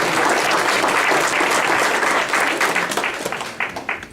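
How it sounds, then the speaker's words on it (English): Banquet crowd at a Laurens County Touchdown Club dinner giving a sustained round of applause, steady and full for most of the stretch, then thinning into scattered claps near the end. "I think we can give them all a big round of applause"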